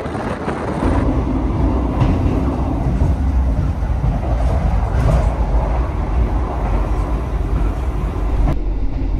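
Steady rumble and rattle of the Argo Cheribon executive-class train running between Jogja and Jakarta, heard from inside the carriage as a continuous loud drone with faint clicks.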